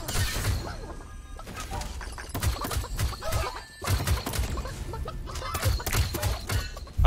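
Chickens cluck and squawk repeatedly in a Realm Royale match, a busy burst of fowl calls mixed with scattered crashes and impacts, loud and continuous throughout.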